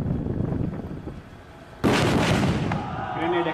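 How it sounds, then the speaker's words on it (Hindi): A grenade goes off during a security drill demonstration, a sudden loud, close blast that follows a stretch of background noise and leaves a sustained rumble behind it. "ग्रेनेड एक्सप्लोड हो चुका है।"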